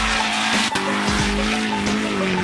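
A drifting car's tires squeal and skid in long, wavering screeches over a loud engine roar, close and sustained with a brief dip partway through, and no voices.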